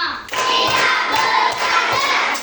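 A fifth-grade class of children clapping together in a classroom, sharp unison claps ringing out in a steady rhythmic pattern at close range.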